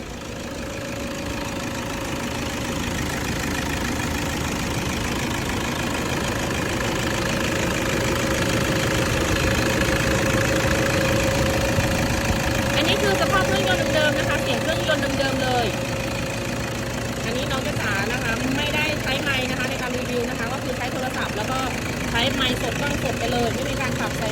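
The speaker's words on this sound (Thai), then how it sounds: "ฟังเครื่องยนต์กันชัดๆ" A 2014 Toyota Vigo Champ pickup with the 2.4 TRD engine idles at close range, a steady low rumble with a faint tick running through the whole stretch, while someone talks over it.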